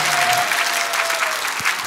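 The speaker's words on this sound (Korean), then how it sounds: "우리 박찬종 변호사님께 다시 한번 박수하겠습니다" Congregation at a large Sunday joint worship rally in Gwanghwamun applauding a lawyer, a steady dense wash of clapping from many hands filling the space, with a faint voice briefly audible at the start.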